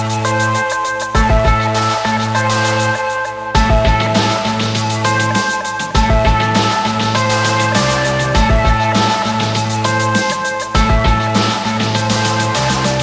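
A rock and hip hop beat reaching its chorus with all instruments playing: booming bass, punchy drums and layered melodic parts in a loud, repeating groove with rhythmic gaps in the low end.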